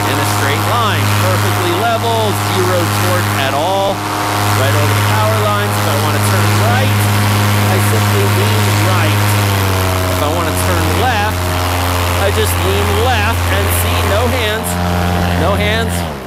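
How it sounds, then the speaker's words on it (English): Paramotor engine at full throttle during a climbing flight, a loud steady droning hum with strong harmonics that holds through the whole stretch, shifting pitch slightly near the end. "No hands, full throttle climb now."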